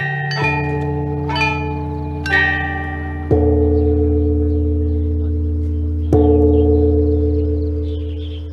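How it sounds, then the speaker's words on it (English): Ancient Chinese bronze chime bells play a slow melody: about five clear, separate strikes. Each bell rings loudly, with long sustained overtones that overlap and fade between notes. "The melody is played on the top bells, the accompaniment on the giant bells below."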